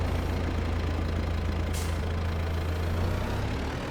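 A Kubota tractor engine idles in Farming Simulator 22, a steady low rumble running continuously and fairly loud, with no voices over it.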